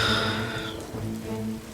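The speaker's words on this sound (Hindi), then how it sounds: "बाहर देख कितनी तेज बारिश हो रही है।" Heavy rain falling outside as a steady, dense wash of noise with no breaks, with a faint low rumble underneath.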